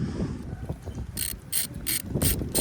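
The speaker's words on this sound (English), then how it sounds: "Putting them one at a time, just a little bit, and then tightening them together slowly." A ratchet wrench tightens the mast step bolts on an old Hallberg Rassy 352 sailboat during a refit, with a series of four or five quick, close clicking bursts over wind and low background rumble.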